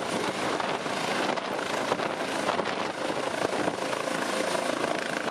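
Steady, close roar of a medical transport helicopter in flight, a broad whooshing rotor and engine drone holding at an even level throughout, with no voices.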